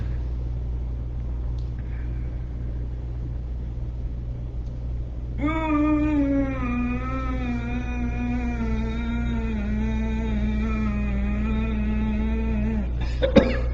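A long, steady hummed breathing tone during Ujjayi pranayama ends with one short, sharp cough, over a low constant rumble.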